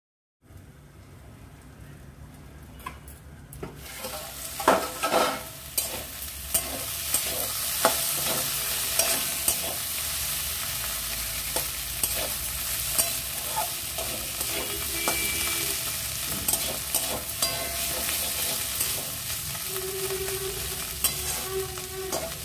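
Kakrol, or spiny gourd, frying in a pan over a low simmering gas flame, with a continuous sizzle and repeated scraping clinks of a spatula stirring the pieces, close and steady.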